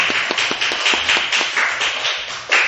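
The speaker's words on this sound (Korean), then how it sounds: "하나님께 우리 영광의 박수 올려드립니다" Church congregation clapping in praise, a steady patter of many hands with sharper individual claps standing out, fairly close and continuous throughout.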